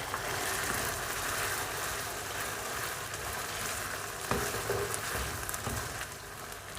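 Chicken and chopped onions fry together in a pan with a continuous, moderately loud sizzle. A brief clatter comes partway through, and there is no talking.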